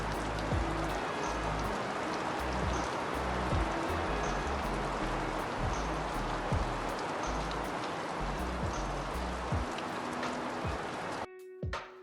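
Continuous rainfall drums on a nearby surface, with scattered louder drips throughout, cutting off abruptly near the end.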